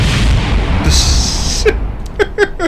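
A rocket blows up in Kerbal Space Program with a loud, deep game explosion followed by a hissing rush, then a few sharp crackling bursts trailing off.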